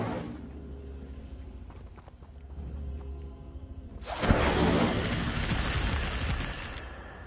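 Incendio fire spell cast in Hogwarts Legacy: a loud burst with a fiery whoosh that rushes in sharply and keeps roaring steadily, following a quieter stretch of low game ambience.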